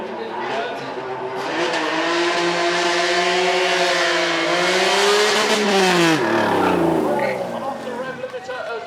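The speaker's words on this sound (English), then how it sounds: "Off the rev limiter as well" A supercar with a 270-horsepower engine at a track sound-off is held on its rev limiter, a loud, steady high-pitched wail that climbs slightly and then drops sharply as the throttle is released near the end.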